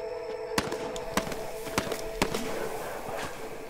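Gunfire in a video game cracks out as a handful of sharp, evenly spaced shots against a busy, tonal game backdrop.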